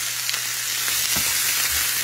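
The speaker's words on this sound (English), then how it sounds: "I kind of stir fry this to put my shrimp down a little bit." Shrimp stir-fried in a hot pan, a steady loud sizzle throughout with a few soft stirring scrapes, close by and without any voices.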